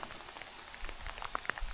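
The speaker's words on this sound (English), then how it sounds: "it's kind of starting to rain a little hard" Rain patters on surfaces at an outdoor driveway excavation site, a soft steady hiss with scattered distinct drops, fairly quiet and heard alone.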